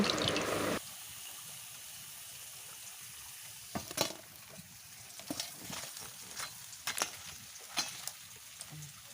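Pumpkin flower fritters dipped in gram flour batter fry in hot oil, giving a steady soft sizzle with scattered crackling pops and bursts throughout, after a louder opening moment.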